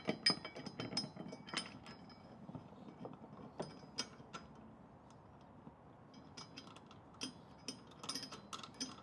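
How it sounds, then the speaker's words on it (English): A 10mm bolt is tightened on a running board bracket of a Tesla Cybertruck, with quiet, sporadic metallic ratchet clicks and clinks coming in short bursts, close by, with no talking. "first you want to tighten up the 10mm bolt."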